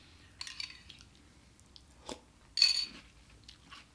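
Birthday cake Timbit cereal being chewed close up, a series of crisp crunchy bites and soft mastication sounds with short pauses between them.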